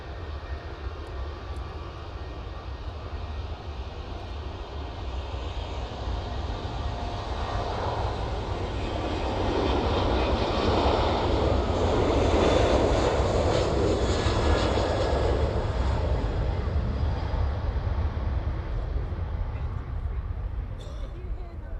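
Airplane landing on runway 09 at East Midlands Airport in the evening, a broad engine roar that swells to a peak midway and then eases off, heard from a moderate distance, with talking over it.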